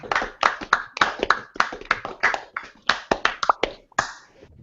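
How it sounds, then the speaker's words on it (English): A round of applause during a live online Q&A stream, dense close-up clapping with sharp hand claps coming in quick uneven bursts, steady and loud throughout with no talking. "So we should give him a round of applause."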